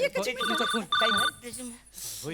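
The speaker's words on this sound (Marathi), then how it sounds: "खासदारांचा फोन आलाय." A telephone rings in repeated electronic bursts, two clear rings, amid comic stage dialogue, with people talking over and between them.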